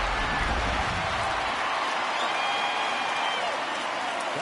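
Home crowd at a Giants–Pirates baseball game cheers and applauds after a home run, a broad, steady roar of a large stadium audience that holds across the moment with a commentator's voice running over it.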